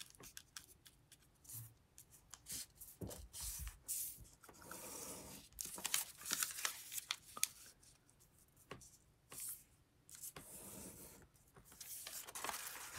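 Origami paper being creased edge to edge to fold angle bisectors, giving soft, close crinkles, rustles and scattered sharp crackles at an uneven pace, with no voices.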